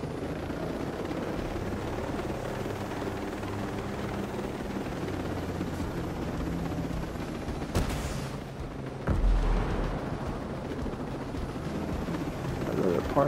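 Helicopter in the Tom Clancy's Ghost Recon Breakpoint video game, a steady whirring rotor drone that runs throughout, with a couple of booming impacts and game noise mixed in beneath it.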